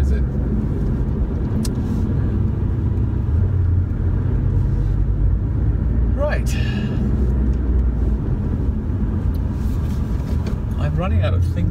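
A Porsche 718 Boxster S engine drones low and steady while driving through London traffic, a constant rumble heard from the cabin, with someone speaking briefly and passing chirps and a higher sweep partway through.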